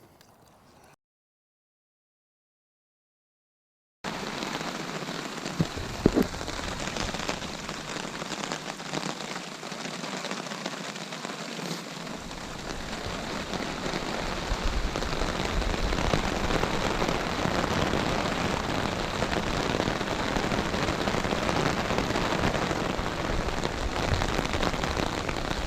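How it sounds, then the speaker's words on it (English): Wind and rain hit a tent at a campsite in bear country. After a brief silent gap, dense rain patters steadily on the fabric and builds slightly, with a low gusting rumble underneath. "So I just had a wind and rainstorm come through here."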